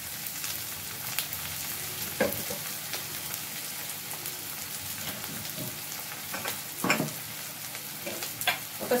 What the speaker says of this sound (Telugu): ఒకసారి మిక్స్ చేసుకొని కొంచెం మరీ మీడియం లో ఉంచుదామండి